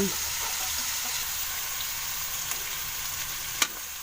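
Ingredients for ginisang monggo sautéing and browning in a pan give a steady, close sizzle that lasts throughout, with a couple of small utensil clicks and no talk.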